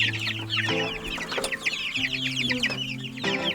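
Baby chicks being moved from a brooder into a chicken tractor peep in a dense, overlapping chorus of high chirps, with low steady tones underneath.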